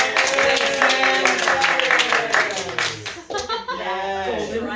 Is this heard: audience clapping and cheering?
yes